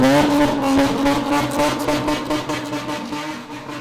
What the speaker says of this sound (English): every now and then you might spot a modified car sliding through a corner